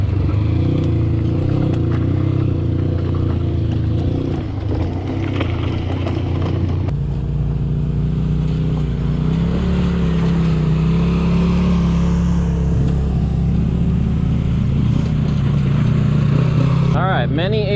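Several ATVs pass on a dusty mountain bike trail, their engines droning steadily and loudly nearby for the whole stretch, rising and falling as they go by.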